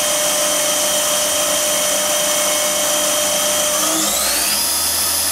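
A KSI SQC-38 CNC Swiss lathe spindle spins at high RPM, a loud, close, continuous machine whine with layered steady tones that rise in pitch near the end as the speed climbs.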